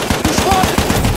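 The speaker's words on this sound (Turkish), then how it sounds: "Makinalı tüfek." Machine gun fire in a tank battle game rattles out as a rapid, loud, evenly spaced burst of shots close at hand.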